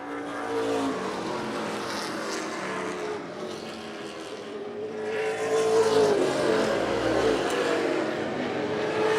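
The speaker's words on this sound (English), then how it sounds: "White flag lap, 3/8 of a mile to go for Nick Reno." Pro stock race cars roaring around a 3/8-mile oval on the final lap, a continuous loud engine drone with swelling passes as the pack comes by, no talk.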